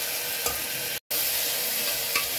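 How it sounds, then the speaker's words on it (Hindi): Ginger, garlic and chopped tomato fry in a pan with a loud, steady sizzle and occasional stirring, continuous and close apart from a brief cut. "भून लेते हैं अदरक लहसुन और टमाटर को।"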